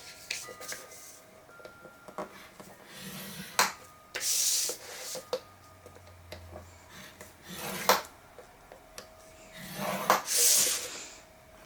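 Paper is scored on a scoreboard for a mini album, with scattered close scraping strokes, light taps and clicks of the tool and board at irregular intervals.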